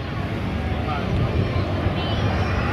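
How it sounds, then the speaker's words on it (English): WWII Spitfire and Hurricane fighters with piston engines at the 2015 Barton Airshow give a steady, loud, rumbling engine drone that holds for the whole stretch, with wind buffeting the microphone. "just an absolutely amazing noise from the Spitfire and the Hurricane"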